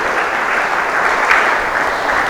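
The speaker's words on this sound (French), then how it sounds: "Je croyais qu'on allait bien applaudir" Steady, dense applause from an audience at a Congolese gala evening, loud and continuous with no voices over it.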